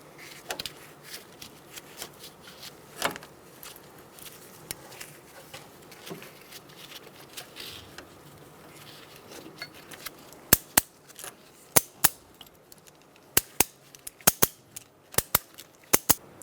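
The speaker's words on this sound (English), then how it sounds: "Now I'm going to put my ratchet strap on, as discussed before, to support the axle" Ratchet strap being cranked tight to hold up the front axle of a 2002-2006 Toyota Camry during a strut and spring replacement, with sharp clicking bursts that are sparse at first and then quick and close together.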